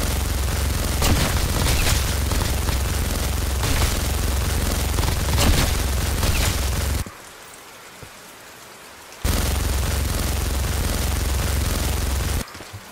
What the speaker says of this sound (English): minigun sounds beast